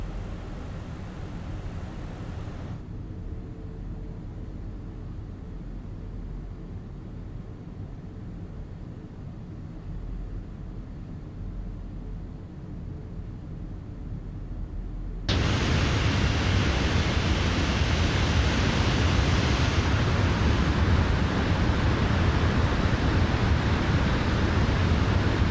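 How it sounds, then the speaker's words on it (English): Aircraft engines drone in the Microsoft Flight Simulator game, a constant broadband rushing hum that sits quieter for the first fifteen seconds, then jumps abruptly louder and brighter, with no voices. "Those engines are not that noisy in real life"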